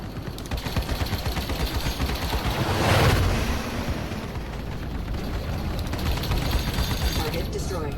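Rapid spaceship guns fire in the Arena Commander space-combat game, a dense continuous burst of shots with a louder swell partway through.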